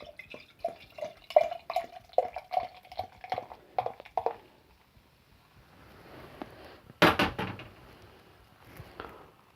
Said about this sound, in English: I'm going to pour this quite aggressively because I know it's not been primed